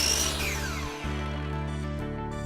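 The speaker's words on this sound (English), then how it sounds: "cut the transition with a miter saw" A miter saw with a coarse carbide blade whines at high speed while cutting a wood deck tile transition, a loud sustained motor tone with a brief dip midway.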